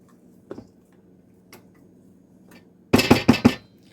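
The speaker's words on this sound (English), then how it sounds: "Just banging on the sides of pots and pans." A utensil banging against the sides of pots and pans while dry ingredients and butter are combined for lemon bars, a couple of faint early taps, then a quick, loud burst of four metallic clanks close by.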